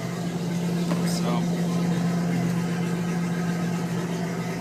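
A 5.7 V8 in a 1989 Arriva 2050 boat idles with a steady, even low hum, close and continuous, while someone talks over it.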